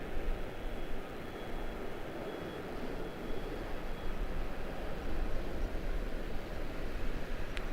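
A loaded airliner takes off at Charlotte-Douglas International Airport using the full runway, giving a steady, broad distant roar that holds throughout without speech.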